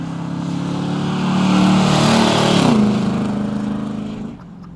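A 1976 Trans Am with a 400 engine, three-speed automatic and dual exhaust drives past, its rumble swelling loud mid-pass, then fading quickly and cutting off near the end.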